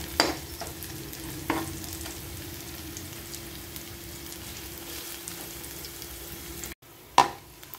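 Spices frying in a pan of hot oil for a mussel dish, a steady close sizzle with occasional stirring clinks, briefly cutting out near the end before a sharp clatter.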